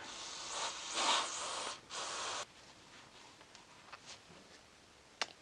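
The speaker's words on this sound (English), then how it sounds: "So now I'm going to clean the idle air control valve. Same throttle body cleaner." Throttle body cleaner sprayed onto the idle air control valve of a BMW E46 330i/325i, a couple of close hissing aerosol bursts over about two seconds, then quiet with faint small clicks.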